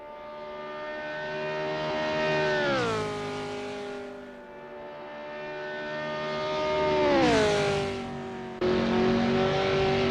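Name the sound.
Formula 5000 race car engines revving in Assetto Corsa (video game)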